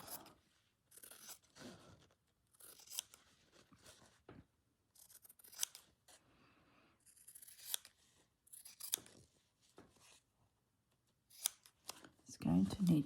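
Scissors trim fabric for Easter bunting for vintage doll clothes in a series of crisp snips and crunchy cuts, some close together and some spaced apart. The cutting is close and quiet, with soft movement between cuts.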